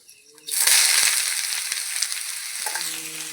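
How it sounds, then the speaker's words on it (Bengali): Chopped bottle gourd hits hot mustard oil in a wok with a sudden loud burst of sizzling, then settles into a steady, close crackle broken by a few soft stirring knocks. "কড়াইতে সরিষার তেল দিয়ে দিচ্ছি কেটে রাখা লাউটা এবার দিয়ে দেবো"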